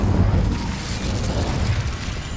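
An Incendio fire spell cast in the Hogwarts Legacy video game, a loud rumbling burst of flame with heavy low roar, steady and close, no talking.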